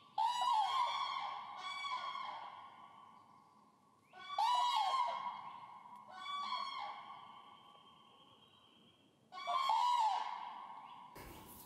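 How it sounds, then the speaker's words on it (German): Common cranes calling in a moor, loud trumpeting bugles in four bursts, each echoing briefly across open peatland, spaced a few seconds apart and fairly close with faint background between calls. "Hier brüten tatsächlich noch die Kraniche."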